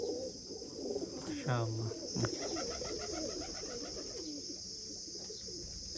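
Pigeons give a short cooing call with a quick second note, heard close against a faint steady hiss and a voice speaking briefly.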